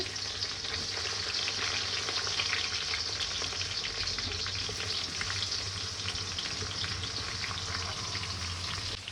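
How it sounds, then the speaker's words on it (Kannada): Chopped onion, green chili and tomato fry steadily in a pan for masala dosa filling, with a continuous close sizzle and occasional stirring scrapes, no voices. "ಚೆನ್ನಾಗಿ ಹುರ್ಕೊಳ್ಳಿ, ಡ್ರೈ ಮಾಡಿ."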